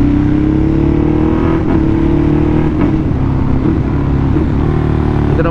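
A Ducati Hypermotard big bike engine runs loud and close, its steady revving drone holding throughout with small throttle swells and no voices.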